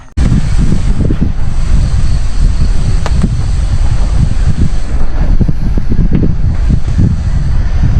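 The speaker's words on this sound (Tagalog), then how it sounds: "Malakas ang hangin." Strong wind buffets the microphone at a campground with a constant loud rumble and gusty bursts throughout.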